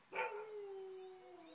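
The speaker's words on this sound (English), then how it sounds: "someone's bloody dog keeps howling at me" A dog howls nearby outdoors, one rising yelp settling into a long, steady, slowly falling wail that carries on alone without talk.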